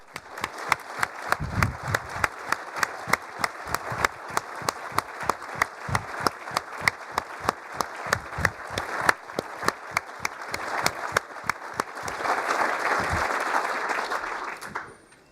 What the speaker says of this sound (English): we had a little round of applause